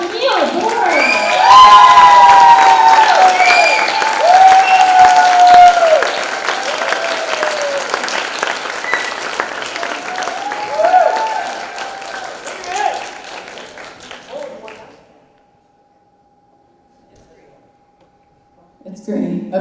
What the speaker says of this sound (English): let's rise and welcome up with a big round of applause, Jamille Board.